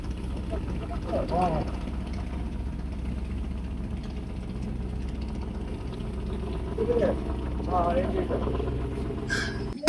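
A passenger launch travelling on a river between Dhaka and Chandpur gives a steady low engine drone and hum throughout. Someone talks over it at intervals, and the engine noise holds a constant level beneath his voice.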